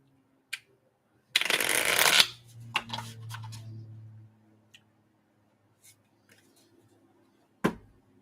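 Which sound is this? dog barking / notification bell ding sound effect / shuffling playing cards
shuffling playing cards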